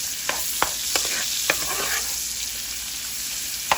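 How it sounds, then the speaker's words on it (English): Half a small onion fries with bacon in a pan, giving a bright, steady sizzle close by. Several quick scraping clicks of a stirring utensil punctuate the frying. "Just a half of a small onion. And gonna cook this just a couple of minutes."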